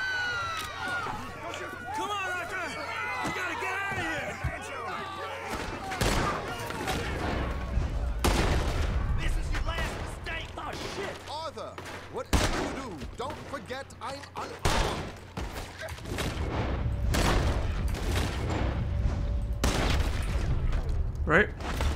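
Gunfire in a Red Dead Redemption II shootout aboard a riverboat during a poker game: repeated close, loud shots and bursts breaking over voices and crowd noise, with volleys growing denser toward the end.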